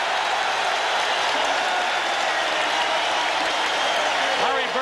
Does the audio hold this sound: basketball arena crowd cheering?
yes